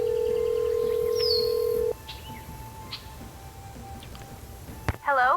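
A telephone is dialed in the Nancy Drew game The Secret of Shadow Ranch: a loud, steady keypad tone holds for about two seconds, then fades to a quieter line. Faint chirps and a sharp click follow.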